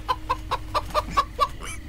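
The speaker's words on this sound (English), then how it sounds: "that chicken appeared out of nowhere." A chicken in Minecraft: Story Mode clucks in a quick rhythmic series of seven short, evenly spaced clucks, close and clear with no voices over it.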